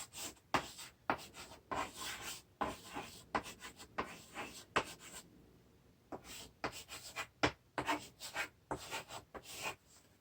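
Pen or pencil writing on paper, close and quiet, with irregular scratchy strokes and brief taps coming in quick clusters, broken by a short pause partway through.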